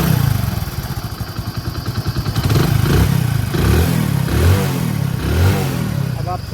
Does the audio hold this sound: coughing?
no